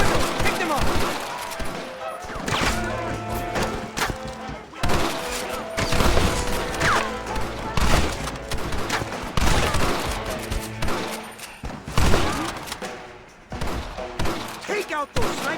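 A rifle gunfight in the video game Red Dead Redemption, with repeated sharp gunshots cracking in bursts and single shots over several seconds, mixed with shouting voices and game background sound.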